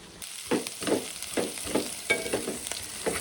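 Vermicelli (semiya) frying in ghee for sheer khurma, a close soft sizzle broken by repeated stirring strokes roughly every half second, with no talking.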